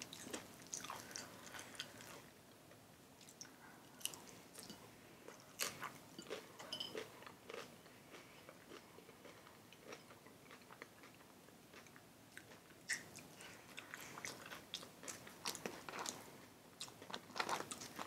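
Close, crunchy chewing and biting of Taco Bell nachos with guacamole from a nacho party box, irregular wet crunches and mouth sounds spread over the whole stretch with no talking.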